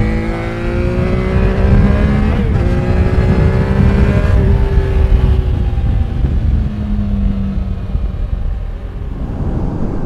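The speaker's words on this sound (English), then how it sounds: "This is a fun motorcycle." A 2021 Triumph Trident 660 motorcycle engine revs and pulls hard through the gears, with rising and falling engine tones and a brief shift dip, loud and close throughout with no talking.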